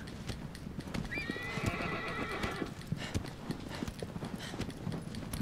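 In the video game Shadow of the Colossus, a horse gallops with steady clip-clop hoofbeats throughout while giving a loud whinnying neigh early on, close and prominent over a soft game backdrop.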